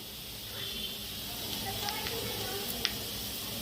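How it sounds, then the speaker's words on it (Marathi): Potatoes sautéing in a pan for an aloo matar sandwich filling give a faint, steady sizzle and hiss with a few light clicks of stirring near the end, and no one speaks. "आणि छान परतवून घेऊया बटाटे"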